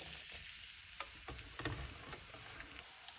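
Onions frying in oil with cumin seeds in a pan for a butter bean curry, a steady close sizzle with scraping stir strokes and clinks across the moment, no voices.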